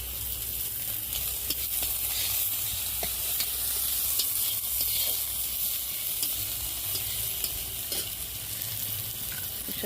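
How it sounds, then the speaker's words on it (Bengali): Hot oil with panch phoron spices, about to take chopped onion, gives a continuous close sizzle scattered with sharp crackles and pops, heard alone without talk. "পেঁয়াজ কুচিটা দিয়ে দেবো।"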